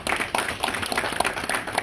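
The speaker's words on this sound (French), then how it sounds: "je peux déjà demander à tout le monde d'applaudir pour ce travail commun" A room of attendees at a health ministry session claps together, a brief burst of evenly paced applause that carries straight through without a pause.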